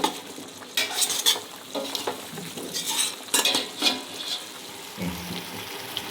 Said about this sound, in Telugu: బాగా ఇది కలిపిన తర్వాత ఉప్పు, కారం పట్టేంత వరకు కలపాలండి.